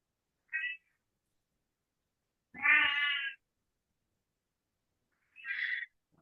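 A cat meows three times, each a short separate call spaced by long silences, the middle one longest and fullest, all fairly close and clear with no talking.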